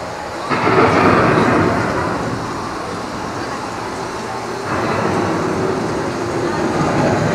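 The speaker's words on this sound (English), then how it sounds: "The approaching storm may seem violent and destructive to us, but to nature, it's a new beginning in the cycle of life." An approaching storm sends two deep, rolling thunder rumbles, one early and another a few seconds later. Each swells loudly, then fades slowly into a long, low grumble.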